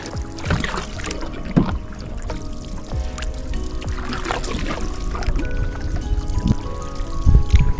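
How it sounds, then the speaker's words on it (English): Canoe paddle strokes dip and splash in calm lake water near Lake Louise, Canada, at an irregular, unhurried pace, with soft drips and trickles between them. "We are going canoeing."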